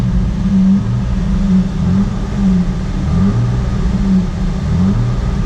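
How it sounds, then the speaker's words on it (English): A Jeep TJ Wrangler engine runs steadily nearby, its low rumble rising and falling in gentle rev swells over several seconds, with no voices. "Engine revs great, no issues whatsoever, very smooth sounding engine."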